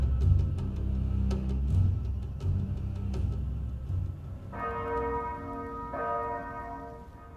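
Church bells ring out clearly with sustained tolling strokes in the second half, following a low rumbling murmur of crowd or distant commotion.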